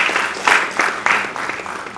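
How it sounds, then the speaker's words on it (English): At an agroecology workshop held by a crop research institute, a small group claps for a couple of seconds, giving an uneven, fairly loud patter of individual claps. "Clap for yourself once again."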